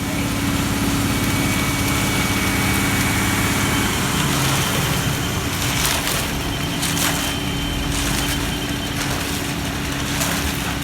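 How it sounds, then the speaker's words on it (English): A concrete truck engine runs at a steady, loud idle-like drone during a monolithic house foundation pour, with clattering and scraping from the work layered over the constant hum. "third concrete truck is headed out"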